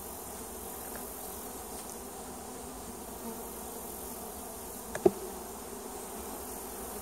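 Honeybees from a swarm colony hum steadily around an open hive during an inspection, a soft continuous buzz with one brief knock partway through.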